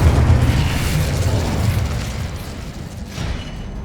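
A fire spell going off in Hogwarts Legacy, a loud burst of roaring flame that whooshes and slowly fades, with a short swell near the end.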